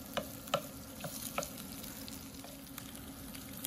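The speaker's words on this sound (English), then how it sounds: "we're gonna start sauteing that sausage up with the onions" Sweet Italian sausage sautéing with red onions in a pan, a low steady sizzle with a few sharp spoon scrapes and taps near the start, no talking.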